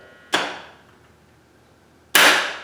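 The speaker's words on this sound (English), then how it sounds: "we hear the solenoid open up" Two sharp metallic clicks of a solenoid valve in an air conditioning automatic pump-down circuit, each loud and close with a short ringing decay, spaced about two seconds apart, no talking.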